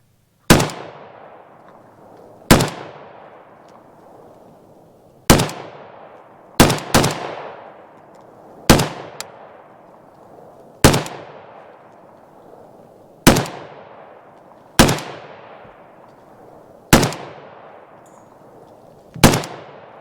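Firearms fired at an outdoor shooting range: about ten loud, sharp single shots spaced roughly two seconds apart, each trailing off in a short echoing decay, with two shots fired in quick succession near the middle.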